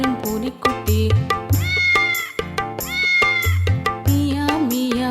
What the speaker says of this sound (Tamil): மியா மியா பூனைக்குட்டி, வீட்டில் வளரும் பூனைக்குட்டி.